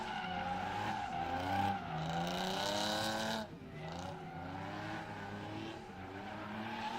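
Cars drifting at the Big Indian drift pit make sustained, wavering tire squeals over revving engines, loud and continuous with a brief dip midway.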